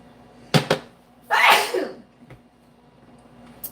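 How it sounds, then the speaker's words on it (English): A single sharp sneeze, preceded by two quick sharp intakes, close and loud, followed by quiet room noise. "Oh my gosh, I have to sneeze."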